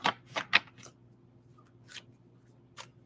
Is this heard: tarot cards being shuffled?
yes